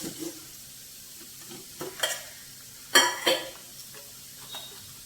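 Radish and moong dal curry cooks in a pan with a soft steady sizzle, and a spoon scrapes and stirs in a few sharp bursts, close by, with no voices.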